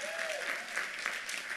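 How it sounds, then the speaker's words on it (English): Steady crowd applause fills a conference hall, many hands clapping in a dense, even wash at moderate volume, with a short bit of speech or a whistle-like tone near the start. "So we want to give another round of applause."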